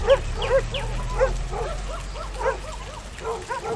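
Several dogs bark in quick repeated yips and woofs, a busy, moderately close chorus of short calls that carries on throughout over a low background hum.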